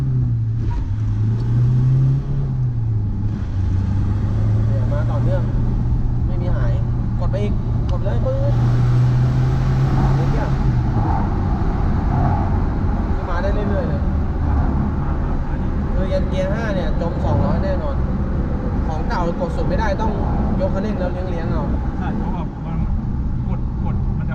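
A remapped car engine pulls hard at full throttle, its deep drone rising and holding steady before easing off, with voices talking over it throughout.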